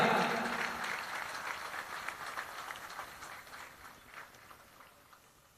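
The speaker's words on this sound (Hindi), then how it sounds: "जोरदार तालियां।" Loud applause greets an honoree at a felicitation ceremony during a Krishna Janmashtami festival in Berasia, a dense patter of many hands that starts strong and slowly fades.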